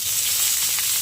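Hot oil sizzling in a pan while cooking spicy cluster beans (gavar), a brief, close, bright crackling hiss with no talk.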